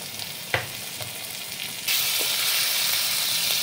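Mustard paste drops into hot oil with frying spices, a soft tap or two and then a sudden bright, loud sizzle that holds steady close by.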